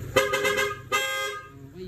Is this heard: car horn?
yes